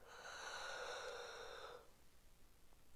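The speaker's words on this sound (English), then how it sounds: "So go ahead and yawn." One person gives a long, drawn-out yawn that fades into a soft exhale. It is quiet and close, with no talking.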